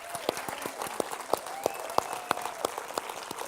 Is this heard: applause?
yes